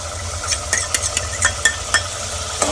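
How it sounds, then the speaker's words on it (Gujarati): Chopped green chillies added to tomatoes frying in a pan, with steady sizzling and a series of sharp clinks and scrapes from a spoon stirring against the pan. "લીલા મરચાંનું કટિંગ છે કરેલું, ઝીણા મરચાં છે એ આપણે નાખીએ."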